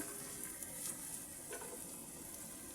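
Ginger, garlic and onion paste fries in a pan for a beef and vegetable curry, giving a soft, steady sizzle with faint crackles, quiet and close, with no talking.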